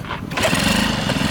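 An old motorcycle engine, its spark plug warmed over a camp stove, turns over roughly in winter cold on a trip across Canada, a loud uneven chugging that rises after a brief pause and runs on steadily.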